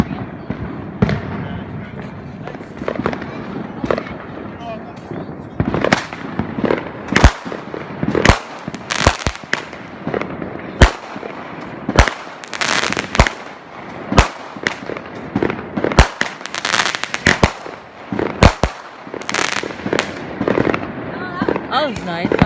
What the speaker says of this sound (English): Oh, you can hear it all coming down. It sounds like rain.